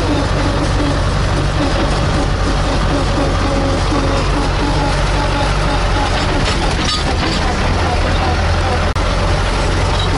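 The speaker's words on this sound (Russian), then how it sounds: "Вот машины едут, обгоняют меня." Cars and trucks pass a slow tractor on a road, heard over the tractor's loud, continuous engine drone as the vehicles go by close.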